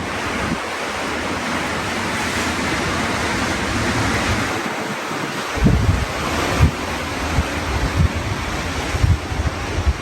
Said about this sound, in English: The tide is coming in.